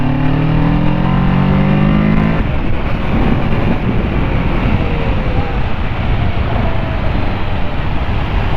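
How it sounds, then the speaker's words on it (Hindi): A 2022 Kawasaki Ninja 650 motorcycle accelerates and then brakes. Its engine roar is loud and continuous, rising at first and then settling into a steady, rushing drone for over eight seconds. "That is how the bike pulls and brakes"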